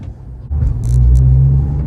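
Mazdaspeed3 engine pulling away from low revs in first gear: a steady low rumble that swells and holds loud and close, with no talk over it.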